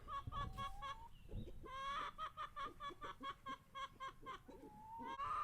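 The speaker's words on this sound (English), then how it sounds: "look now at all our happy hens" Hens sunbathing on grass give off a rapid, rhythmic series of clucks, close and fairly loud, rising into a quicker run of calls through the middle and easing into a drawn-out cackle near the end.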